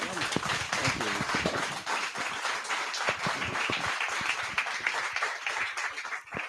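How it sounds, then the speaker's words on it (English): Sustained applause from a crowd, dense steady clapping with a few voices and cheers mixed in, fairly loud throughout. "Give her one last round of applause"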